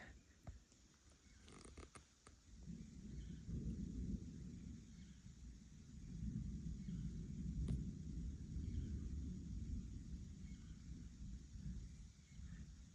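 Low, sustained rumble of thunder rolling in from an approaching storm along the Pacific Crest Trail, swelling and fading in long waves with a few faint clicks early on, no voices.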